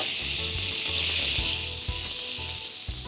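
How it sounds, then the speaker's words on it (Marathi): Cumin, asafoetida and ginger-garlic-green chilli paste sizzling in oil in a kadhai, a loud steady frying hiss broken by a few soft stirring knocks, with no talking. "त्यात जाईल 1 चमचा तेल, 1 छोटा चमचा जिरं, अर्धा चमचा हिंग, 1 मोठा चमचा आलं लसूण हिरवी मिरचीची पेस्ट. छान परतून घेऊया."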